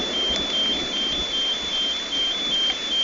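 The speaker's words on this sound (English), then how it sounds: "set that car alarm off" Car alarm set off by lightning during a storm, a steady repeating electronic tone pulsing over continuous rain and wind noise, fairly distant with no talking.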